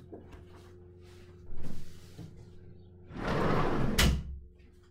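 A window being closed indoors: a short sliding scrape, then a longer rolling slide ending in a firm thud, heard alone over a steady low hum.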